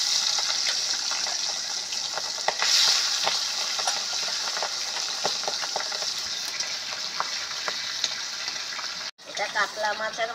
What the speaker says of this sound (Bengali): এবার ওই মাছের মাথাটা ভেজে নেব।